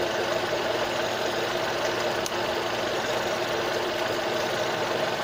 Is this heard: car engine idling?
yes